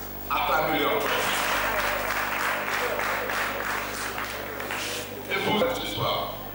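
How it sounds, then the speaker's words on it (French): An audience at a school event in Porto-Novo applauds steadily for several seconds, dense and fairly loud, with a voice heard briefly at the start and again as the clapping fades. "Acclamez-le encore."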